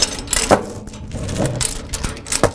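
Metal tie-down chain slack wrapped around on heavy-equipment hauling gear makes a series of close, sharp clinks and rattles in irregular bursts.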